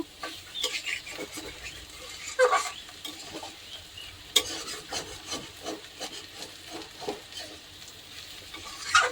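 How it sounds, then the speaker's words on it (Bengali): Small fish (chuno mach) frying in a pan and being stirred, with intermittent scraping and rubbing strokes over a faint sizzle and a few sharper knocks, quiet and close, with no talking. "মাছটা দিয়ে দিলাম, দিয়ে এটাকে ভালো করে নেড়ে চেড়ে নেব"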